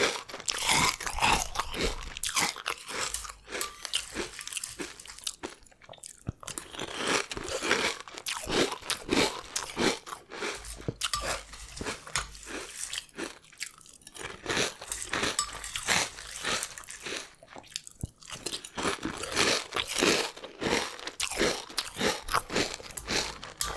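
Loud, close crunching of crisp, sugary breakfast cereal being chewed, with steady repeated bites and brief pauses, and no talking.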